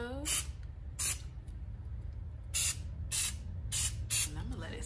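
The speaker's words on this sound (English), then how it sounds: "I'm just gonna spray it with some Lysol" Lysol disinfectant spray hissing onto a package in five or six short, sharp bursts, close and loud over a steady low background hum.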